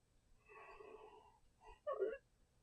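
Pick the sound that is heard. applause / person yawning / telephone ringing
person yawning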